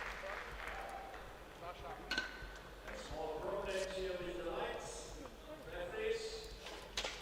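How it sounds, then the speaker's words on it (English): Crowd cheering and applauding at a superheavyweight men's powerlifting event at the World Games 2017, a broad swell of voices and clapping rising and falling through the arena over steady background noise. "There's a cheer come up"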